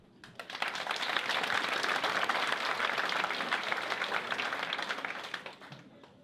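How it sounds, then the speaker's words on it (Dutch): A theater audience applauds after a stage act at a 2017 Glamour Night event, with dense, sustained clapping that swells quickly, holds for several seconds, then fades out. "Dames en heren, geef een groot applaus voor deze indrukwekkende act."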